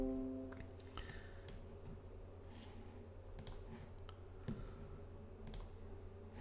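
A few sharp computer mouse clicks, close and scattered over a steady low electrical hum, with no voices.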